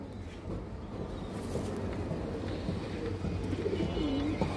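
Cream-eyed high flyer pigeons coo steadily at moderate volume over a constant background hum, with no speech.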